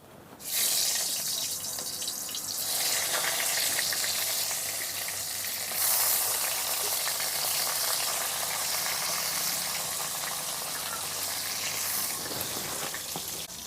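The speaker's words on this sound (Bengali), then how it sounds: "এখন আমি বেগুনগুলি ভেজে নেব" Eggplant pieces frying in hot oil in a home kitchen while cooking a Bengali rohu fish curry: a loud, continuous close sizzle with crackling that swells briefly partway through, no talking.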